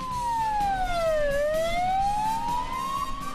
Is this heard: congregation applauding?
no